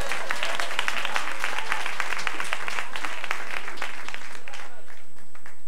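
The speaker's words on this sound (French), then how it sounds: "J'ai quand même eu des acclamations." A church congregation at a Sunday service applauds and cheers, a loud, dense wash of clapping that fills the room steadily from start to finish with voices mixed in.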